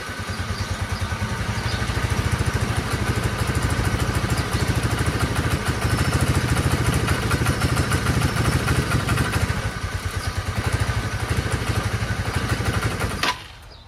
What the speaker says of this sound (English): as I'm about to go out for a ride, it doesn't throttle up without stalling now.